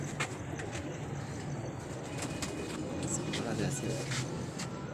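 Pigeons of the Salara breed coo on a city rooftop, their soft low calls steady beneath people talking and faint traffic nearby.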